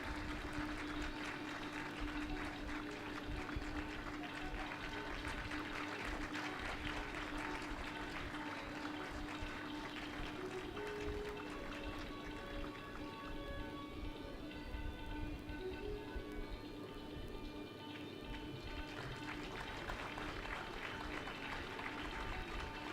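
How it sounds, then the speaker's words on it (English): Audience applause at a convocation ceremony of the Indian Institute of Information Technology Nagpur, sustained distant clapping filling the hall evenly, soft and steady with a faint tonal hum underneath. "Let's hear a hearty round of claps for S. Pavan Kumar."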